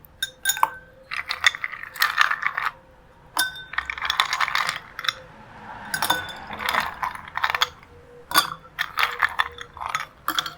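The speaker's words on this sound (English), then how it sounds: "Let's add some ice." Ice cubes clink and rattle into a glass for a bergamot and ginger aperitivo cocktail, a run of sharp, close clatters and taps in irregular bursts.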